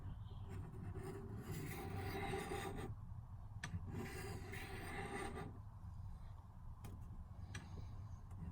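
A Japanese blade is sharpened on a stone: faint, gritty scraping strokes come in two longer runs with a pause between, followed by scattered quieter rubs in a quiet room.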